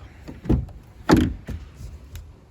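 A 2022 DS4 Rivoli car door being opened, with a few close mechanical clicks and a solid latch thunk, then softer knocks over a couple of seconds.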